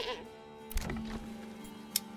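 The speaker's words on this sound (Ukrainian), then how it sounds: "а тут ми можемо побудувати загін для кіз" Goats bleat from a goat pen in the village-building game Manor Lords, one short bleat standing out over a low game soundtrack, with someone talking softly underneath.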